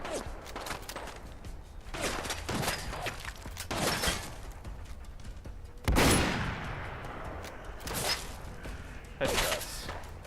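Gunfire with .32 caliber ammunition in the video game Fallout London, a series of sharp cracking shots in small clusters with pauses between, one especially loud blast in the middle, and someone talking between shots.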